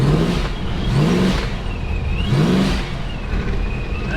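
A loud drag car engine revs hard three times in a row at a drag racing event, each throttle blip rising sharply and dropping back, up close.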